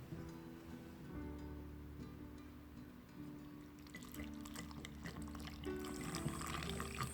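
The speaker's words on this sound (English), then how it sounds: "pour into the jar." Hot pickling brine poured from a measuring cup into a jar over cucumbers, a soft, close trickle and splash that grows louder and busier in the second half.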